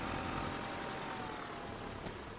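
A small tractor idles in Farming Simulator, a steady low engine drone with a constant mid-range hum that holds even and close, fading slightly near the end, with nobody speaking.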